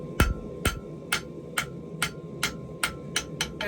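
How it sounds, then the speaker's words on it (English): A hammer striking steel hairpin stock worked cold at a forge, nine sharp ringing blows in a steady, even rhythm, close and clear with no talk. "And I'm hammering this relatively cold so that I don't move too much material."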